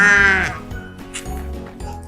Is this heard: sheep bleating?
yes